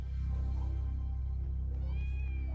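A house cat meows in the background, a drawn-out tonal call rising near the end, steady and moderately clear over a constant low hum with no talking.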